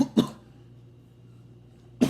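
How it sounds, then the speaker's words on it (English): A person gives two sharp, close coughs about two seconds apart, with a quiet room hum in between. "Sorry, I just had a bad cough there."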